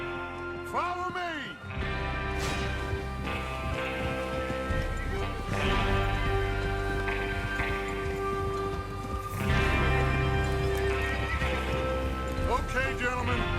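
Horses in the Red Dead Redemption 2 video game neigh and whinny up close while hooves clip-clop steadily, layered over a game soundtrack with occasional voices talking.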